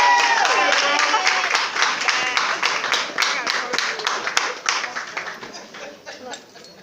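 Audience applause at a graduation ceremony, a dense wash of clapping that is loud at first and slowly thins and fades, with crowd voices chattering underneath.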